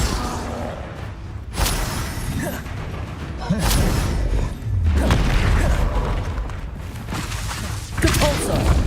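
Explosive spell blasts in Hogwarts Legacy, heavy booming impacts with whooshes and crashing debris recurring every couple of seconds, loud and close, with game noise around them.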